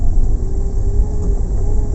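A manual car's engine drones steadily and close by as the clutch is released during a driving lesson in a narrow lane, a low, even hum without voices.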